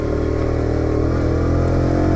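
A Daytona Hobby 50, a small 2-horsepower motorcycle with a four-speed gearbox, sets off with a steady, loud close-up engine drone that holds constant without a break.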